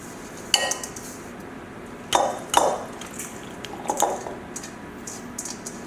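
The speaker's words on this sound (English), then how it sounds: "add sauce to the cooked ziti together, combine, toss and combine" Cooked ziti tossed with sauce in a pot for old-school baked ziti: a few scattered clinks and scrapes of a utensil against the pot, with louder knocks partway through and softer ones toward the end, no talking.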